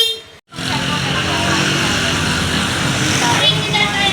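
An original stock vehicle horn honks in one sustained, loud blast after a brief gap, with people talking around it.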